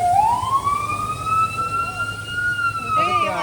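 Emergency siren from a police car or fire truck wails in one long rising and steady tone that sweeps past close by on a street, with traffic rumble underneath.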